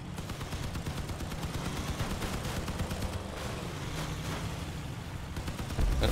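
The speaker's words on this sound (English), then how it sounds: "I'm just in like a little Jeep with machine guns" Rapid, continuous machine gun fire from a small jeep in the Crossout vehicle combat game, a steady stream of fast rattling shots running throughout at moderate distance, with engine and combat noise mixed in.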